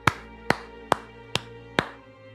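One person claps five times at an even, unhurried pace. The claps are crisp and close in a quiet room, with no talk.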